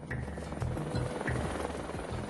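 A helicopter used by a company boss for travel, flying with a steady rotor thrum and rhythmic low-frequency pulses, fairly faint and continuous with no talk.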